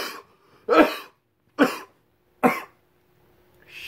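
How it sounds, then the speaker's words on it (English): Three sharp, separate coughs ring out close by, spaced roughly a second apart, with a faint breath trailing at the end. "couldn't do that intro and be cool and not cough my ass off from that dab"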